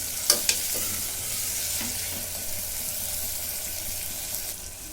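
Green chillies slit lengthwise and chopped tomatoes sizzle and stir in a hot pan, a steady close frying hiss with a couple of sharp clinks near the start and no talking.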